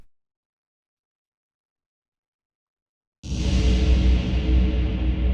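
A sound sample in Ableton drenched in heavy reverb bursts in after three seconds of silence, a loud, dense wash that sustains steadily with a long smeared tail to the end.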